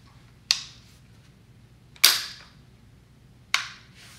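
Three sharp, dry metallic clicks from dry firing an IWI Tavor 7 7.62mm bullpup rifle, spaced about one and a half seconds apart, each a crisp snap with a short decay over a quiet background.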